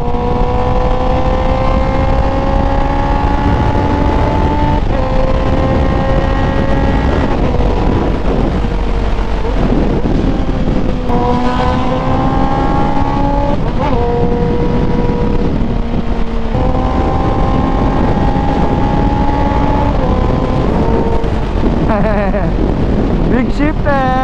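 A motorbike engine revs again and again, its pitch climbing through each rise and then dropping back, loud and close with heavy wind buffeting the microphone.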